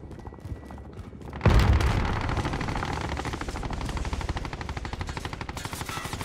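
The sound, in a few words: gunfire from a teammate in the video game Modern Warfare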